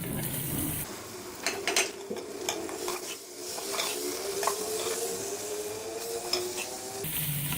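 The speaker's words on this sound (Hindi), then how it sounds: "अब मैं इसमें कीमा डालने लगी" Chicken mince tipped into a hot pan for a Pakistani-style sada keema, sizzling steadily while a spoon scrapes and clinks against the metal in short repeated bursts, close and fairly loud.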